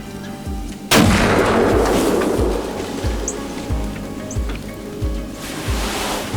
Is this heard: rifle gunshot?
yes